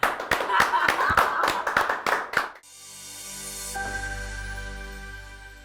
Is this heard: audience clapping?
yes